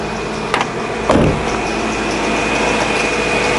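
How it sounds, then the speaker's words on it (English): A kind of old Honda CR-V engine runs steadily with worn belts, a continuous mechanical drone with a thin high whine on top and a couple of brief knocks or clicks early on, heard up close without talk. "Unfortunately, these belts are probably going to squeak"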